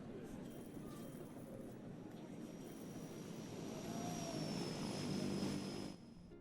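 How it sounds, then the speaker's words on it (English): Distant propeller and jet airplane engine drone in the airport-management game Airport CEO, a low steady rumble with a thin high whine that swells slightly before dropping off near the end. "See what I mean about the airplane noises?"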